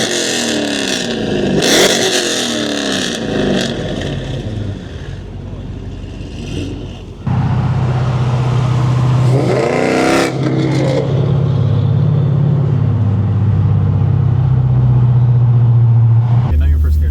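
Car fitted with American Racing headers idles roughly, then revs loudly and pulls away in first gear with a deep, rising engine roar, and people speak briefly over it.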